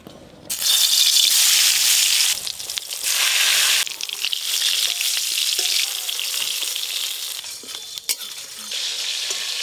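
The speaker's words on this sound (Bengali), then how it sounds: "তেল গরম হয়ে গেছে, বেগুনগুলো প্রথমে ভেজে নেব" Eggplant slices fry in hot oil, giving a loud, crackling sizzle that surges in waves, with occasional rattles and clinks of a utensil against the pan.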